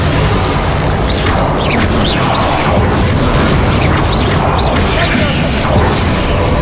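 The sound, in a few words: Confringo explosive spell blasts in the video game Hogwarts Legacy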